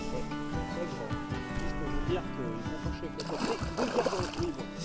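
A fish is released into shallow water at a wild pond, with sloshing and splashing close by while people talk over it.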